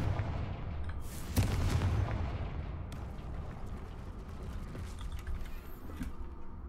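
A Confringo blasting spell bursts with a loud boom in the Hogwarts Legacy video game, a sharp hit followed by a rumbling, debris-filled roar that slowly settles into a low game ambience.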